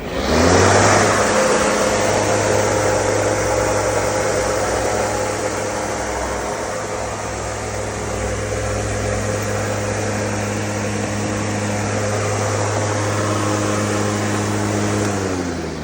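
An Italian cordless battery lawn mower with a 70-litre grass bag runs with a steady, loud electric motor drone and a whining tonal hum, starting abruptly and holding an even pitch throughout.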